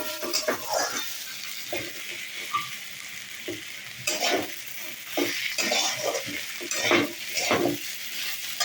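Fish head and tail stirred into hot oil in a frying pan for a bitter gourd and potato chochchori. Steady sizzling runs throughout, broken by repeated scraping knocks of the spatula against the pan at an uneven stirring rhythm.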